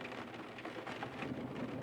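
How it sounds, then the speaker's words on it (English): A heavy downpour with thunder in a video game: dense, steady rain hiss mixed with low rumbling thunder, continuous and close throughout. "The downpour is no ordinary rain."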